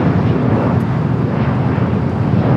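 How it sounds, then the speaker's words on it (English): An American Airlines A321 jet taking off at Los Angeles International Airport, a loud, broad, steady engine roar with rumble and wind buffeting, sustained throughout. "Next takeoff on the south side, American Airlines"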